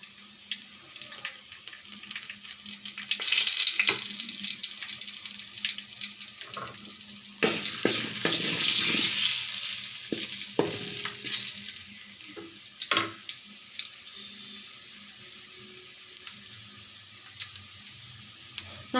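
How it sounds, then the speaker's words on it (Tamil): Urad dal, lentils and mustard seeds spluttering in ghee for tempering South Indian pudina rice, a faint hissing sizzle with scattered pops and crackles, swelling in two bursts and then thinning out. "தாளிப்பு பருப்பு, உளுந்து, கடுகெல்லாம் போட்டிருக்கேன். இது பொரிஞ்சு வரட்டும்."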